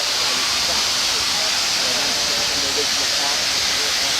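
A historic steam canal boat vents steam in a continuous, close, loud hiss that stays level for the whole few seconds, with faint voices beneath it.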